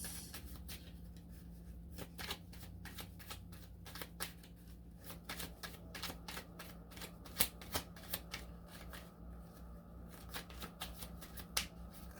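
Tarot cards are shuffled in a quiet room with rapid, crisp riffling clicks and soft slaps that come in uneven bursts, close and fairly faint, with no talking.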